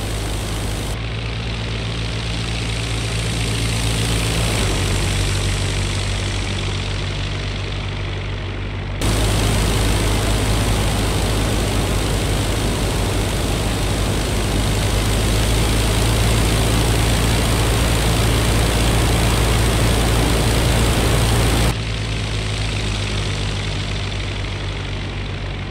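Steady droning propeller engine of a WWI fighter plane, Albatros D.Va or S.E.5a, in a flight combat video game, loud and continuous with a brief shift in intensity partway through.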